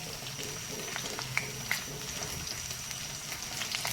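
Dried red chillies and cumin seeds crackle in hot oil with a soft, continuous sizzle and scattered small pops, fairly quiet and close, with no voices.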